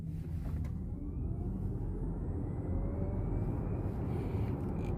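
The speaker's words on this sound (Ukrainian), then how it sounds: "А ну, зараз от поїде машина." A Volkswagen ID.4 electric car pulls away and accelerates in sport mode, heard from inside the cabin as a steady low road and tyre rumble with a faint rising whine and no engine noise.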